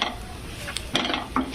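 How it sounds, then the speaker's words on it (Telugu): Onions and turmeric fry in a pan for a Telugu amaranth-leaf and peanut-powder curry, giving a soft steady sizzle under a couple of sharper stirring scrapes and clinks of a spoon against the pan. "ఇప్పుడు మొత్తం ఉల్లిపాయలతో పాటు పసుపు అంతా కలిపినట్టుగా మనం వేపుకోవాలండి"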